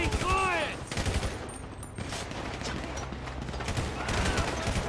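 Gunfire in the video game GTA V, a dense continuous spray of shots under shouting voices and game noise, steady and moderately loud throughout.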